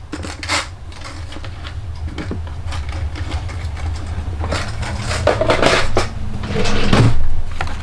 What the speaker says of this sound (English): so I'm going to run this through my die machine